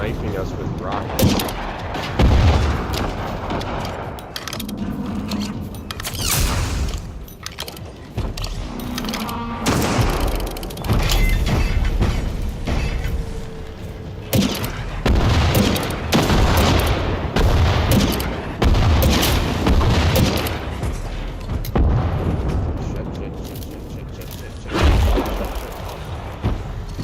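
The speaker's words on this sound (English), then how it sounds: "Something's like sniping us with rockets." Rocket fire and explosions in the video game Generation Zero come as repeated booms and blasts throughout, dense and loud, with players talking over the shooting.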